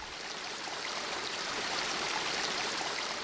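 A dirty river in Bulacan flowing steadily, a continuous broadband wash of water heard quietly and at an even level, with no voices.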